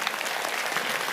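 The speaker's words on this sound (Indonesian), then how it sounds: "Tepuk tangan untuk Pak Haji Sulaiman." An audience at a religious talk gathering applauds, a brief burst of many hands clapping together, fairly close and steady.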